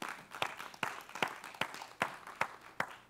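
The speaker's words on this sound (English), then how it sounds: "Will somebody give God a hand clap of praise today?" A church congregation claps in praise during a worship service, about eight sharp hand claps in a steady slow rhythm, each a distinct crack standing out from a faint room background.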